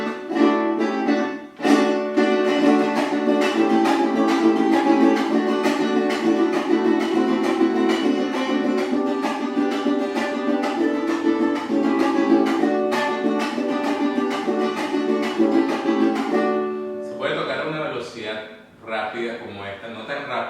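Venezuelan cuatro strummed in a vals pasaje rhythm counted in six, with muted chasquido strums low and high, a steady rhythmic chordal pattern played alone and close for about seventeen seconds before a brief softer passage.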